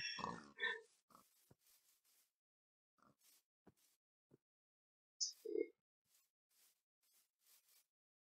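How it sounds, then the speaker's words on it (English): Pigs grunting and oinking in a video game, a scatter of short, clipped grunts and snorts with gaps of silence between them, some louder and closer, heard without talk. "There are so many fucking pigs."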